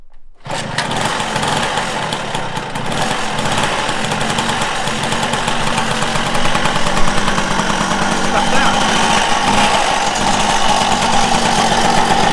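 An MBK Magnum Racing XR scooter's small engine catches right away and settles into a loud, steady buzzing idle with rapid pulsing and a slight rise in pitch, heard close up while people talk.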